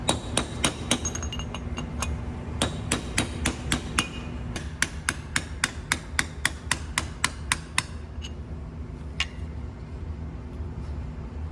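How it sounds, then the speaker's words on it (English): Sharp metallic hammer blows on a large punch knock freeze plugs out of an FA20 cylinder head, a fast run of close, loud taps with brief pauses, thinning to a few scattered strikes near the end. "Big punch. Just tapping on kind of one side."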